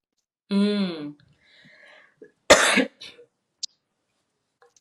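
One sharp, explosive sneeze bursts out close by, followed by a few faint breaths and small noises, with a short voiced sound just before it.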